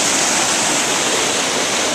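A waterfall roars beneath a rickety old bridge, a steady, dense wash of rushing water that stays loud and unbroken throughout, with no voices.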